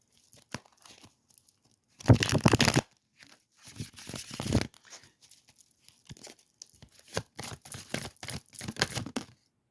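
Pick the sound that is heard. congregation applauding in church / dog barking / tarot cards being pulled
tarot cards being pulled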